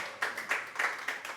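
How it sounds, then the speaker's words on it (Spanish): Church congregation clapping in unison, five sharp claps in a steady rhythm across a short span, loud and close with no talking. "Solo 4 aplausos"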